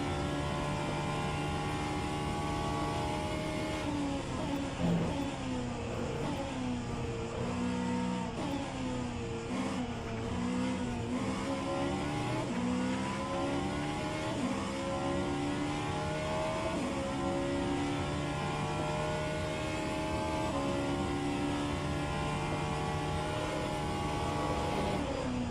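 A Vanwall Hypercar laps in the rFactor 2 racing game during Le Mans practice, its engine droning loudly and steadily and rising and falling in pitch through gear shifts over a long stretch.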